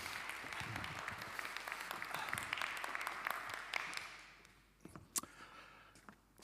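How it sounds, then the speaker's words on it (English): An audience at Ubuntu Summit 2024 applauding a speaker, a fairly faint, distant wash of clapping that tapers off after a few seconds into a few scattered claps. "Let's give him a warm round of applause."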